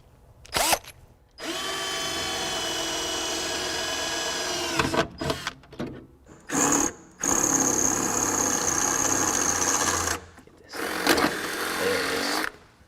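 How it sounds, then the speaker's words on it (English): Power drill boring a new hole through the firewall of a Chevrolet C10 truck: several sustained whining bursts of the motor, close and loud, separated by short pauses and clicks. "I'm gonna drill a new hole that corresponds to our hardware that's on our cable"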